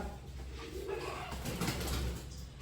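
Pigeons in a home loft coo softly, low throaty burbles at moderate distance over a dull room hum, with a faint stir of movement and no speech.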